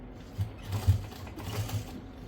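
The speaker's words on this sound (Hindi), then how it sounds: "अब हमें इसको एक बार और फोल्ड करना है ऐसे और फिर से यहाँ सिलाई लगानी है।" A sewing machine stitches through folded fabric at close range, a soft steady mechanical whir with light rhythmic clicks of the needle.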